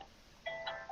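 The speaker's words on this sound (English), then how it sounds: "if anyone can hear that, that's my alarm reminding me to be awake on another day." A wake-up alarm beeping faintly in a room, a couple of short electronic tones arriving in the second half after near silence.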